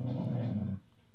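A dog gives a short low growl up close, quiet, which stops abruptly and is followed by a moment of near silence.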